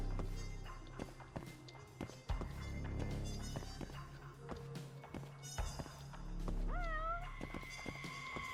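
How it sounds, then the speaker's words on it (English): An in-game cat meows in the action game Judgment (Judge Eyes), set on busy city streets, heard briefly amid footsteps, ambient crowd noise and background music. "Cat in here?"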